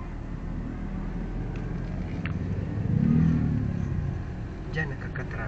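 Road traffic with a car engine passing and swelling midway, a steady rumble of vehicles close by, under voices talking.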